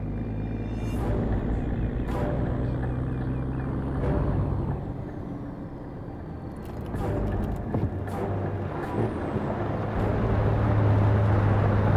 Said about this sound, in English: We're tracking an enemy convoy headed your way. I count 6 vehicles in the convoy, over.